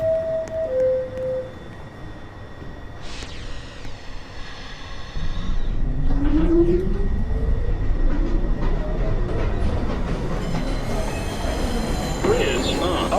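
A subway train pulls out of a station at night, its rumble building after a chime and a door-closing announcement, with wheels squealing and rising pitch as it accelerates away loudly.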